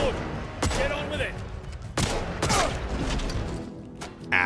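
Gunfire from the video game Atomfall, with several sharp shots spaced across a few seconds. Each one is short and fairly loud over a busy game background, with a final burst at the end.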